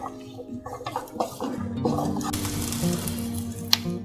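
Soya chunks, onions and curry leaves being stirred in a pan: wet squishing and soft scraping, with a brief spoken word or two early, then a louder sizzling mix and a sharp clink near the end.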